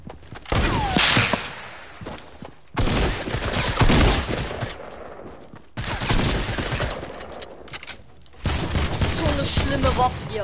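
Gunfire from a weapon in the video game Fortnite rattles out in dense, loud bursts of rapid shots, separated by brief silent gaps, with a voice talking now and then.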